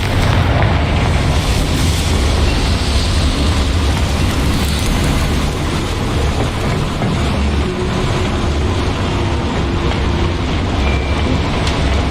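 A Confringo blasting spell detonating in Hogwarts Legacy near a boiler, a loud, dense rumbling blast that stays heavy and sustained with continuous low roar across the whole stretch, no voices.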